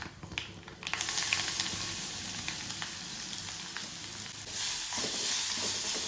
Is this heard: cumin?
yes